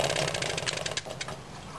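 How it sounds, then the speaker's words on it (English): A 1969 British Seagull Forty Featherweight 1-2 hp outboard motor, run on 10-to-1 oil, starting with a choke on, making a loud rapid rough two-stroke buzz that sputters and fades slightly. "So we're gonna start her up."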